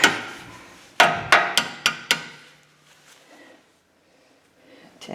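Five quick, sharp hammer taps seat a front brake pad on a BMW E46 330i ZHP, ringing out close and distinct before the sound fades to quiet.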